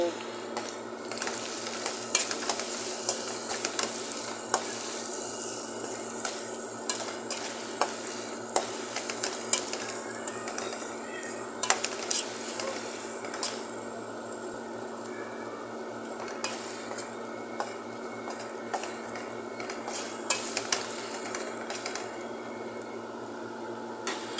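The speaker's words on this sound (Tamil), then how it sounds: "வெங்காயம் கொஞ்சம் வதங்கட்டும்" Steady sizzling of onions frying in a pan, with frequent scraping and stirring clicks of a spoon against metal, no talking.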